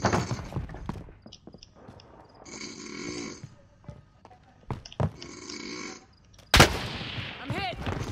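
A sniper rifle shot rings out in a first-person shooter match, a single sharp loud crack standing out among scattered game noises and bursts of player chatter.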